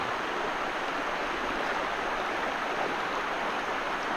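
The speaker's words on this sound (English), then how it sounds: "we come to our first creek crossing" Creek water flows steadily at a hiking trail crossing, a soft, even rushing and babbling that continues without breaks. No voices are heard over it.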